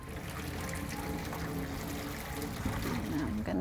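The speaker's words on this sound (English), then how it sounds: "So I'm gonna go ahead and pour this." Turmeric dye liquid is poured, making a continuous soft splashing trickle at close range that runs steadily without pause.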